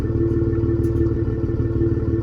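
A Ford F150 exhaust fitted with a Corsa resonator delete, heard close up as a loud, steady, droning engine rumble with a throbbing pulse and no voices.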